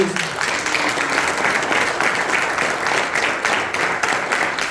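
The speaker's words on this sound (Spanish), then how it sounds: "Denle un aplauso." A congregation applauds during a church sermon, dense steady clapping filling the room for almost five seconds, moderately loud and close.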